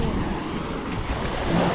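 Sea waves wash steadily close to a seaside house, a constant broad rush of surf mixed with wind noise and no voices.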